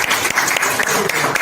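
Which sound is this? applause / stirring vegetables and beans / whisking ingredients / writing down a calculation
applause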